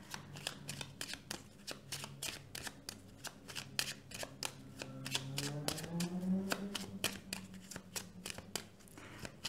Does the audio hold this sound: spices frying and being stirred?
no